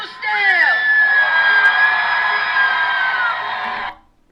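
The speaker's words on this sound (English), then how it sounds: "She's got a lot of applause." An audience cheers and whoops after a Letitia James speech, a loud sustained crowd roar with shouts and whistles rising over the clapping, then cutting off sharply near the end.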